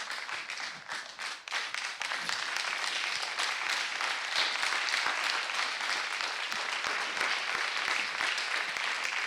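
A church congregation applauding during a worship service, dense sustained clapping from many hands that fills the room, with brief voices mixed in near the start.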